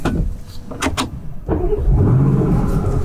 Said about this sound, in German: Klingt unheimlich gut, der 8-Zylinder, also wirklich, das ist schon krass.